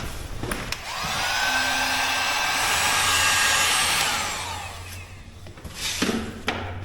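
Heat gun blowing on a stuck part of a Suzuki Samurai, a rising then steady airy whine held for a few seconds before cutting off, close by, framed by faint clicks and handling noise.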